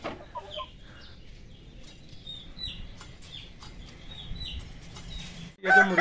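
Hens on a small farm cluck in a steady, moderately close series, with a few brief wing flaps and a sharper burst near the end, no talking.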